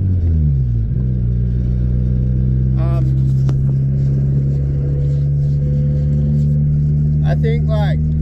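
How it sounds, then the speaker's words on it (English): A turbocharged Toyota Starlet engine idles then steadies into a deep droning exhaust note close by, with brief spoken remarks over it. "I think like the turbo just gives the exhaust a note too."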